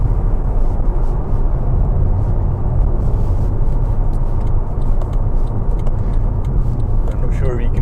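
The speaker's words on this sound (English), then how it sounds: "Full acceleration, wide open throttle. That exhaust is lovely." A Mercedes S212 E63 AMG with stage 1 tuning accelerating at wide open throttle, a dense continuous exhaust roar with engine rumble heard from inside the car, partly under talk.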